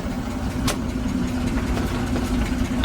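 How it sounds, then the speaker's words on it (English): A barn-find Chevrolet C10 truck engine idles close by with a bad exhaust leak, a steady low throbbing rumble with ticking, puffing pulses running throughout. "That exhaust leak is so bad."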